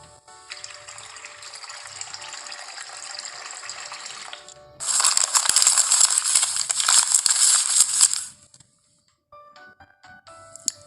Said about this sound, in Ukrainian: я зім'яла папір